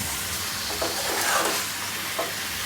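A summer vegetable, two kilos of it, is stir-fried in a pan for a Pakistani dish, giving a steady close sizzle with a few soft scraping stirs and no talking.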